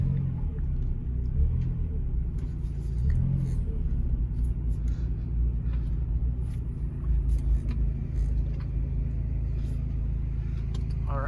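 A Mazda NA Miata with no power steering rolls slowly around a driveway, its engine a steady low rumble throughout, close and continuous.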